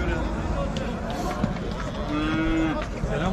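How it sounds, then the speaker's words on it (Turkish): At a busy cattle market, a cow moos briefly amid constant crowd chatter and the shuffling, thumping noise of livestock, with people talking over it. "En baba inek."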